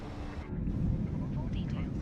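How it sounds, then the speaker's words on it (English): Airplane engine noise from a flight simulator game, a steady loud low drone filling the whole stretch, with talk partly over it. "Airplane is a little loud."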